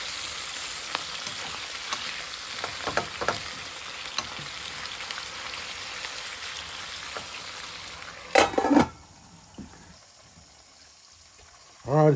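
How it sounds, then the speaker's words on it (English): Potatoes fry in a breakfast skillet with a constant sizzle and scattered stirring scrapes, then a louder clatter of the spatula before the sizzling quiets. "Stir that stuff around"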